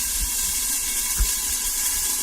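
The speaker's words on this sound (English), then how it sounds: "So I'm just going to pop a bit of water in it, and then pop on a lid and let that steam away" Water tipped into a hot pan of chicken cooked for chicken ramen noodles, a soft steady wash of liquid and steam hiss, fairly faint and continuous with a couple of low thumps.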